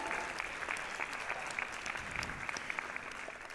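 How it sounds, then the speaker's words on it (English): Applause from the audience at a keynote event, a steady dense wash of clapping with sharper individual claps throughout, sustained at an even level. "let's give them a big round of applause"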